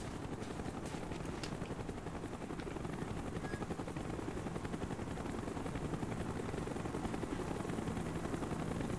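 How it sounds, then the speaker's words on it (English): A Call of Duty: Black Ops helicopter with loud, rapid rotor chopping throughout, a steady pulsing thump over a broad roar, close and continuous without voices. "Chopper's inbound!"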